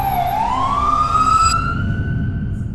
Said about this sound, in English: Listening to the ambulances night after night